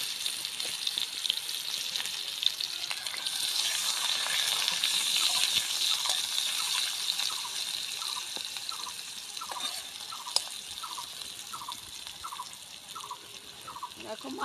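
Raw plantains sizzle and crackle in hot oil over a clay stove fired with coconut leaves, a soft, steady frying hiss with scattered pops, fairly faint.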